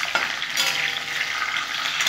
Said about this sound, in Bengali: ইলিশ মাছের মাথাটা আমি ভেজে নেবো বন্ধুরা।